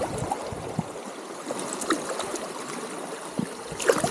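Flowing water at a lake during kokanee fishing in Japan, a steady rushing and trickling wash with soft gurgles and occasional splashes, fairly close and continuous, with no talking.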